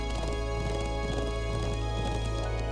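A horse gallops in the video game Trails of Cold Steel, a steady, close clip-clop of running hooves over an unbroken tonal game music bed.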